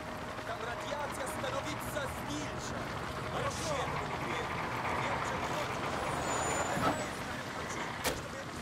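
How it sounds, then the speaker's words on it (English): In Call of Duty 4 Modern Warfare Remastered, a truck engine rumbles and draws closer under a busy game soundscape, with a hiss and a clank near the end, while people talk over it. "There's a truck coming."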